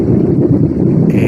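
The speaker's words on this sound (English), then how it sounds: "today the wind is coming from the south" Strong wind buffets the microphone outdoors near the waterfront cranes at Port Charlotte, a loud, continuous low roar with no pause.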